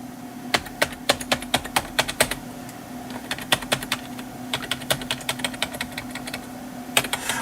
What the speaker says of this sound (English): It's a membrane keyboard.